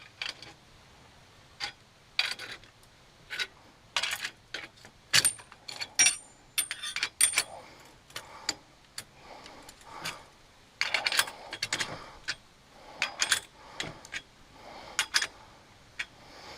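Small metallic clicks and ticks from a wrench tightening bolts on a Brand-CNL portable chainsaw mill, irregular and close, with occasional clinks of metal parts.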